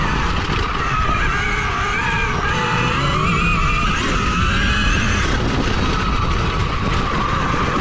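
A 2022 KTM Freeride E-XC electric dirt bike riding a trail at steady throttle, giving a constant loud whine with rushing wind and tyre noise that barely changes throughout.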